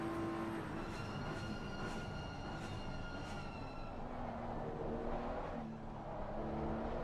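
Onboard engine of a BMW GT race car in the sim racing game Assetto Corsa Competizione at Monza during qualifying, a steady whining engine note rising and shifting through gears, with no voices over it.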